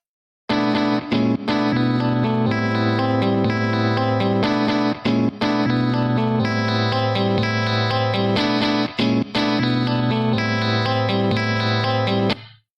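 Bright, dense music with strummed, effected guitar plays steadily, with crisp treble emphasized by a high-frequency shelf EQ boost throughout before stopping abruptly.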